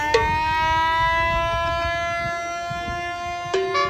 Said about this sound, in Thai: มีหวอด้วยข้างหลัง